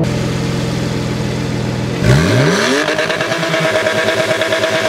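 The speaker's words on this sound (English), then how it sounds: "Then you slam down the brake and you slam the accelerator. And it should, there you go, launch control activated." A sports car's engine idles steadily, then bursts into a loud launch-control start, revving sharply upward and accelerating hard with a rising, aggressive roar close by.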